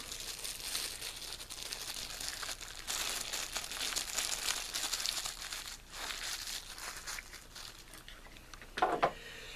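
Cellophane wrapping being peeled and crinkled off a Steel Punk Slug mech mod, close crackling and rustling that keeps going in bursts, ending with a sharper tearing crinkle.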